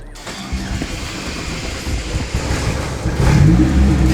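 An Opel-engined Lotus cranks and catches on a hot start, idling roughly before revving up louder near the end, close by.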